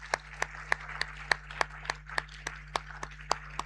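Sparse, evenly spaced claps ring out for Ghana's Vice President, Professor Nana Jane Opoku Ajiman, at a Diaspora Summit: about a dozen sharp hand claps at a steady rhythm over a low hum, with no voices.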